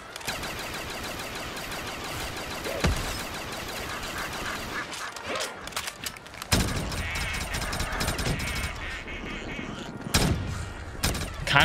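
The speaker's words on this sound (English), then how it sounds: "The fireworks makes me so nervous every single time it goes off" Rapid crackling bursts of fireworks in a video game, dense and sustained for several seconds with a few louder pops, under busy game sounds and occasional talk.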